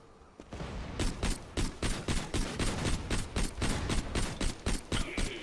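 Rapid gunfire from the video game Borderlands: The Pre-Sequel, a loud continuous string of sharp shots at a steady quick rhythm, dense and close with no talking over it.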